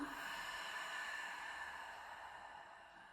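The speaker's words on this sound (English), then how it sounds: "And open mouth, exhale." A long, steady open-mouth exhale during a pregnancy yoga breathing exercise, a soft airy breath held for about three seconds, close and alone with no voice over it.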